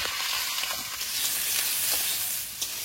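Prawns and potato frying in oil with panch phoron in a wok, a loud, bright, continuous hissing sizzle with slight swells, close by and without talk.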